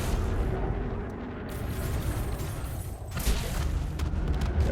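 Ship weapons from a Cobra Mk 5 bounty hunter build fire in Elite Dangerous, giving a continuous dense roar of blasts and rumbling impacts that stays loud and steady throughout, with no clear pauses between shots.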